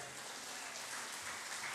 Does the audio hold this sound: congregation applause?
yes